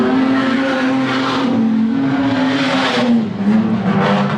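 Wingless sprint race cars roar past on a racetrack, a loud sustained engine drone with shifting pitch as the pack races around under green flag.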